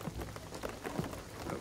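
Rain falling in the video game Shadow of the Tomb Raider, a soft steady patter of drops on surfaces, faint and continuous for a brief moment with no voices.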